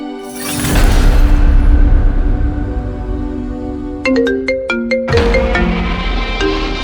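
A melodic electronic ringtone plays in short stepped tones over a loud, dense background of music or noise, repeating its phrase twice near the end.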